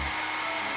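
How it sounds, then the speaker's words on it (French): Hair dryer blowing on a paper napkin craft, a steady close, loud airy whoosh that runs continuously through the short moment. "Il ne me reste plus qu'à sécher au sèche-cheveux."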